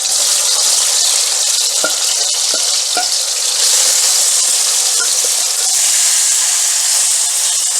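Lamb pieces for a jalfrezi curry fry in a pot with a steady, loud broadband sizzle throughout, broken by a few short clinks of stirring.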